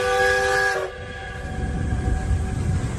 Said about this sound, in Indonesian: Ini ada kereta api Thomas bergandengan.